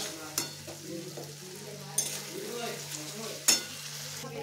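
Spices with turmeric sautéing in a pan for a catfish curry give a steady soft sizzle, broken by three sharp scraping stirs of a utensil against the pan.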